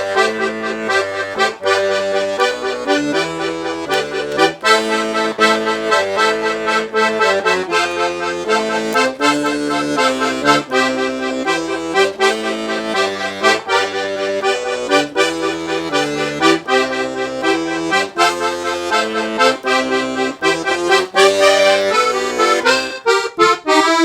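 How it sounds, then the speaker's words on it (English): Piano accordion plays a rock-and-roll zydeco accompaniment, with right-hand chord triplets bouncing over a steady alternating bass line, loud and continuous without talking. "if we play these chord triplets in the right hand over the bass line"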